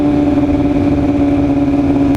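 Motorcycles ride along a city street on a busy rally Saturday, their steady, loud, buzzing engine drone holding close and continuous with no voices over it.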